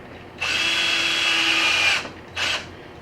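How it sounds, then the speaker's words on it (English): A power drill whirs loudly for about a second and a half drilling a pilot hole in wood for a drawer base, stops, then gives one brief second burst. "Drill my other 2 pilot holes here."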